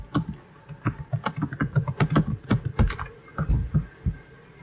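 Rapid typing on a computer keyboard, close and crisp, with irregular clusters of keystrokes and brief pauses between bursts, no voices.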